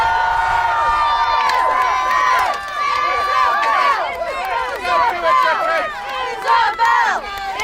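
A crowd at a knightly tournament-style contest cheers for its champion with loud, overlapping shouts and whoops, the voices rising and surging in waves throughout.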